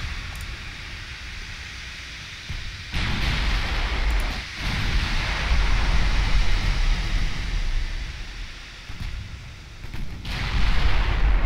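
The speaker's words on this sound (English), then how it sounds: "We've got another salvo of doom coming in." Naval artillery salvos in Ultimate Admiral Dreadnoughts boom heavily in a naval battle, a series of deep rumbling blasts and impacts that swell and recede over several seconds amid continuous low roar, with no voices.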